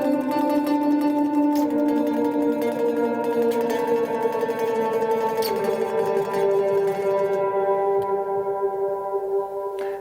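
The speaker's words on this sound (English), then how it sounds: "He's playing with the tremolo picking technique" Guitar tremolo picking single notes on the fourth string, a rapid continuous stream of picked notes shifting pitch in steps, with a delay tail, played alone without talking.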